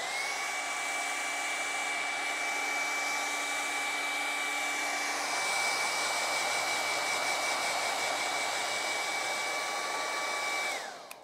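A hair dryer blows a continuous, steady whir at close range for several seconds while drying a watercolor painting, then switches off near the end.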